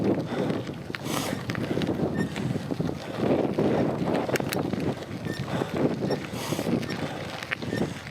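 Steady, loud wind roar buffets the microphone on a gravel bike ride out and back along Weir Road near Fayetteville, Arkansas, with faint tire crunch and rattle beneath a constant rushing wash.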